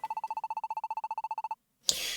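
An electronic telephone ring, a fast even trill of identical beeping pulses lasting about a second and a half, then a pause before a sudden louder noisy burst.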